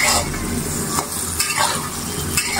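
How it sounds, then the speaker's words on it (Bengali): Soybean chunks fry lightly in hot oil over a raised flame, a steady close sizzle with a few sharp clicks of a utensil stirring them. "সয়াবিনগুলো তেলে হালকা ভেজে নিব"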